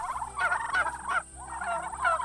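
Several turkeys on a farm gobble in overlapping, rattling bursts, fairly close and loud, with a brief pause before another round of gobbling starts up.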